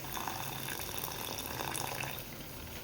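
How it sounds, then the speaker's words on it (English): Hot water is poured into a pot of thick cooking daal, a short steady splashing gush that is close and continuous for a few seconds, with no voices. "we are going to add in a little bit of hot water,"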